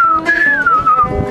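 A person whistles a short, clear tune close by, with the pitch sliding up, holding, then gliding down over about a second against a background of muffled murmur.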